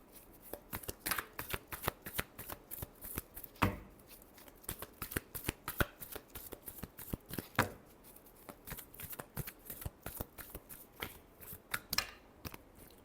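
Tarot cards shuffled by hand, a continuous rapid riffle of crisp paper flicks with occasional louder snaps, close and quiet, with no talk over it.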